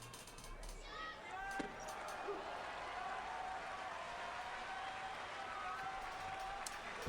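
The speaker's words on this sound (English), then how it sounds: "Crowd getting hyped up." Sumo arena crowd at a classic basho tournament, a steady broad roar of cheering and murmur that holds evenly throughout, with a few faint claps and thuds inside the din.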